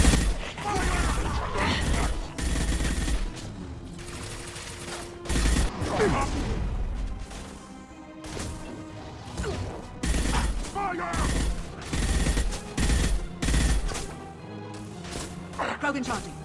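Weapon fire in the video game Mass Effect 2, bursts of shots and crashing impacts repeating throughout a chaotic battle, mixed with voices and in-game music.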